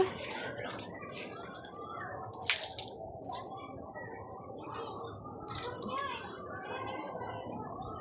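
Water trickles and drips in irregular splashes onto flower and fruit plants being watered by hand, the flow thin and uneven, with a few brighter splashy bursts over a soft constant wash.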